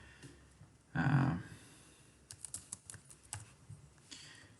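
Fingers type on a computer keyboard while searching a cloud marketplace. After a brief louder noise, a run of quick, close, crisp keystrokes clatters at an uneven pace with no talking.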